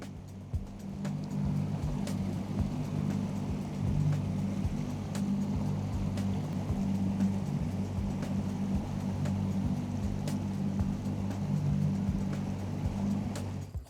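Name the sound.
powerful motorboat running upstream on river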